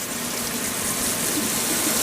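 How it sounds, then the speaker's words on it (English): Cool tap water gushes steadily over drained pasta in a colander, a close, continuous hissing rush of running water. "Flash it briefly with some cool water to stop it from cooking."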